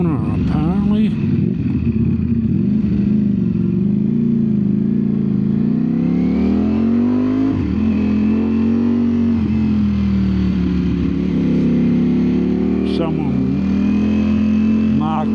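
A 2025 Ducati Streetfighter V4S motorcycle engine hums steadily and loud while riding, its tone rising and falling with throttle changes and a brief rev around the middle, continuous throughout with wind noise close by.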